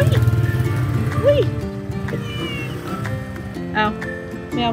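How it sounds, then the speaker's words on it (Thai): An orange cat meows several times, clear and close, with drawn-out wavering calls over background chatter and music, somewhere in Vientiane, Laos. "อาแมวส้ม คุณข้ามมาจากประเทศไทยเลยนะครับ"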